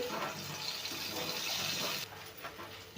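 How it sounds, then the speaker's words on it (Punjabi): Two glasses of water pour into a pot of sautéed vegetables for masala pulao, a quiet steady gush that runs for about two seconds and then stops. "ਆਪਾਂ ਇਹਦੇ ਚ ਪਾਵਾਂਗੇ 2 ਗਲਾਸ ਪਾਣੀ ਦੇ"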